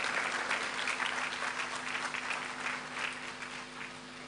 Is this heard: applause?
yes